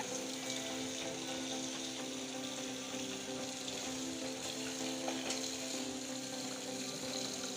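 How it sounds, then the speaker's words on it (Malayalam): Water drains from a fish pond through a hose in a continuous, even gush, fairly faint and steady from start to finish, with no voices. "ഇതിനകത്ത് വെള്ളം ഇച്ചിരി കൂടി കുറയാൻ നമ്മൾ ഇവിടെ ഓസ് ഇട്ടിട്ടുണ്ട്"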